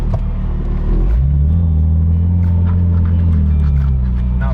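A K-swapped car with a throttle fault and welded differential idles with a deep steady rumble, then the engine revs up and holds a higher drone before easing off, heard up close.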